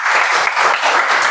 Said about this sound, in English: Please help me welcome with a big round of applause for the presiding officer, Toastmaster Manoj.